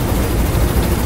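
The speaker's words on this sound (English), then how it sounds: "That's an attack helicopter, isn't it?" Attack helicopter in the video game Mirror's Edge, a loud continuous low rotor and engine roar filling the whole brief moment.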